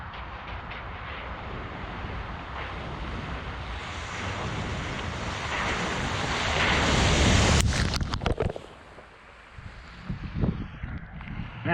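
Loud rushing water and churning splashes as a 2021 Jeep Wrangler Rubicon 4xe ploughs through off-road, building to a peak, then subsiding into dripping and draining water.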